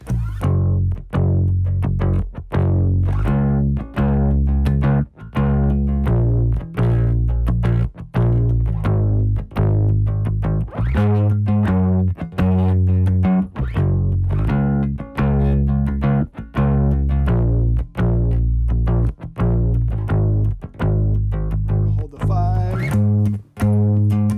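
A bass guitar plays a steady picked groove of repeated notes, punchy and continuous, with a slightly effected, driven tone.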